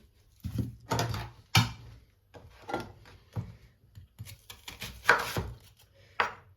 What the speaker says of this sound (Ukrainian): почистимо і наріжемо три цибулини